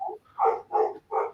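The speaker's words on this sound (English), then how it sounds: "It's a loud dog." A husky next door barks loudly, three sharp, evenly spaced barks after a brief yip, clear and close with quiet gaps between them.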